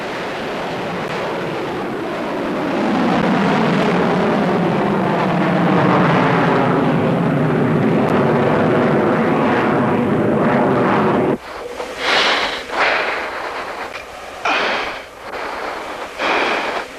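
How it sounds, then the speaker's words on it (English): A McDonnell Douglas F-15C Eagle fighter jet roars through airshow maneuvers at the Portland Rose Festival, a sustained loud jet rumble whose pitch sweeps as it passes, then cuts to broken gusty noise. "On your right, you will see a McDonnell Douglas F-15C Eagle, the world's top air superiority fighter"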